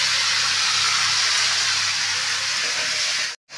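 Ash gourd pieces dropped into hot oil alongside frying sweet pumpkin for a hilsa fish-head ghonto, giving a loud, steady, bright sizzling hiss close by that cuts off abruptly near the end.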